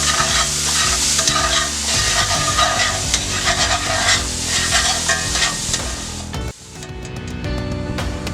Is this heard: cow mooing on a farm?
no